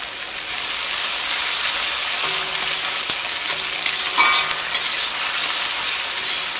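Garlic, green chili and onion fry in hot coconut oil with a loud, dense, steady sizzle and occasional stirring clinks, no talk.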